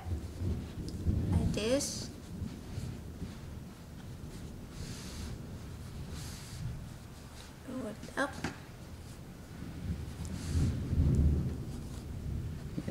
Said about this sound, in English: sounds like our storm's still kicking outside